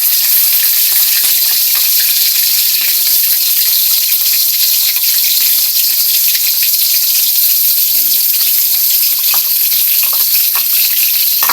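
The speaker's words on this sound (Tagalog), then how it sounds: "Hindi naman kailangan fry na fry to. Basta't ma-light brown lang natin," Tambakol fish frying in a pan until light brown gives a loud, dense, continuous hiss of oil that stays close and steady throughout, with small crackles and no talk.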